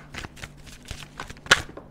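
Tarot cards being shuffled by hand during a reading: a short run of soft riffling and tapping bursts, close and fairly quiet, with a sharper snap near the end.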